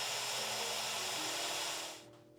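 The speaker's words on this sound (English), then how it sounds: "drill a hole in the top of the battery" A drill bores into the top of a stuck Magic Trackpad battery, a loud, steady high-pitched whir that runs continuously for about two seconds, then cuts off abruptly.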